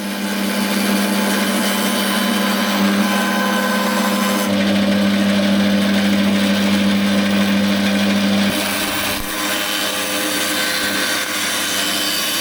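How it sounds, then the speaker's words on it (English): Planer thicknesser smoothing reclaimed pallet wood boards, a loud steady motor drone with a deep hum that shifts pitch as boards feed through, no talk. "then using the planer thicknesser to get all of the boards smooth and flat."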